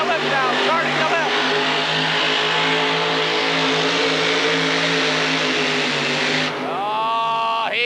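Modified tractor roaring during a 1986 tractor pull, a loud sustained engine drone with rising and falling revs as it strains down the track, while an announcer talks over it.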